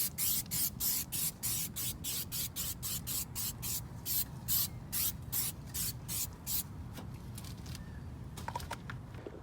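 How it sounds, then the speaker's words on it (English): Tire shine is sprayed onto a car wheel in rapid, evenly spaced trigger-pump bursts, each a short hiss, about twenty in a row. The spray is close, then slows and fades into a few scattered spritzes over a steady background hum. "got some tire shine right here."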